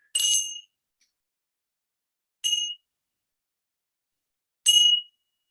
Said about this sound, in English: just to ring the bell to officially start this